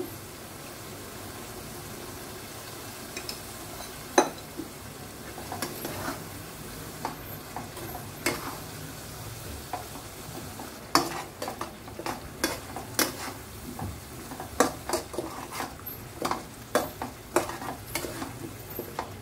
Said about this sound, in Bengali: এগুলো এখন একটু কষাবো।